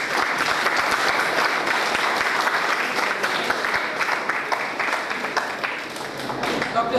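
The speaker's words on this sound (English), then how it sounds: "I would like to invite him for an applause" Dense, steady applause fills a guest lecture on power system analysis in an engineering department hall as the audience welcomes the visiting lecturer, continuous and fairly loud for the whole stretch.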